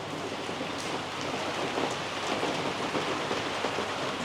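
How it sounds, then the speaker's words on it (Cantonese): Heavy rain pours down outside a guesthouse in Da Nang, Vietnam, a dense, even hiss of falling water that stays constant throughout. "出面已經落緊大雨啊"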